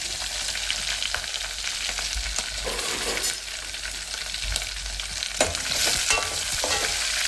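Cumin, garlic, onions and dried red chillies frying in hot oil for ulavacharu, a loud, continuous close sizzle with stirring scrapes and a sharper crackle near the end.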